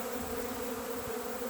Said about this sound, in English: The bees are very gentle when foraging this, more gentle than they are foraging on open syrup.